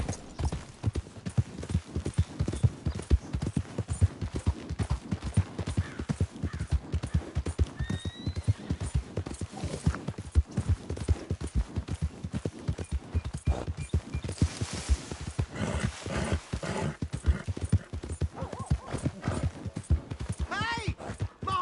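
Horse hooves clip-clop in a steady, continuous rhythm, close and prominent, with a whinny and voices talking over them.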